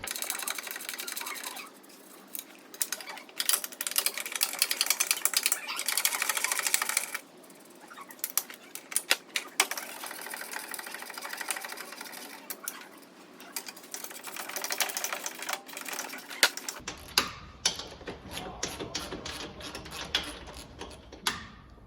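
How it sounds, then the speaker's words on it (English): A ratchet socket wrench on nuts of a spindle housing on a Kubota lawnmower deck, rapid clicking bursts in repeated runs with brief pauses, close and fairly loud. "So we'll get those off now with a 11/16 socket."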